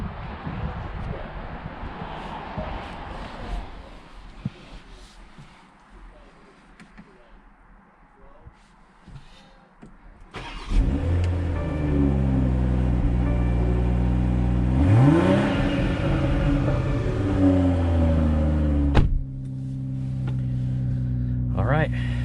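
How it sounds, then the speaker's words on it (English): A 2021 BMW X3 M40 starts up and pulls away, its engine settling from quiet interior rustle into a loud, rising rev and a deep steady drone as it accelerates, with a brief thump partway through. "let's go ahead and take this BMW X3 M40 on a test drive and see how it does"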